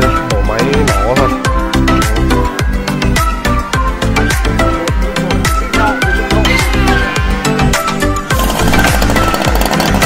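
A petrol chainsaw cuts through a thick slab of gõ hardwood for a table top, its engine roaring loud and close without a break, pitch rising and falling as the blade bites.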